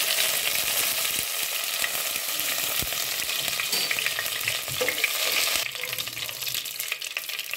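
Prawns with curry leaves sizzle loudly and steadily in a pan for Mangalore-style prawn sukka, with occasional scraping stirs, close by and without talk.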